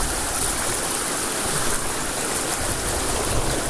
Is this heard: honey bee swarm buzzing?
no